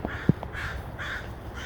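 Crows caw a few times outdoors on a wooded path, with harsh calls spaced out over low background ambience and one sharp nearby knock.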